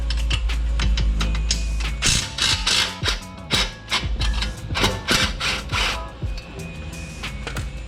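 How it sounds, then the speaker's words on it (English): A ratchet wrench loosening the lower shock absorber bolts on a G82 BMW M4 during a suspension swap, giving rapid, loud, close clicking bursts with short pauses between them. "we're going to take these two bolts out of the shock on the bottom here"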